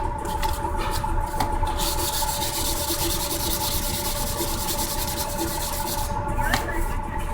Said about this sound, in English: Now I'm going to take a 220 grit sandpaper just to smooth the whole surface out